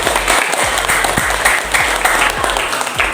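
Steady applause from a crowd, many hands clapping densely and continuously at a fairly loud level throughout.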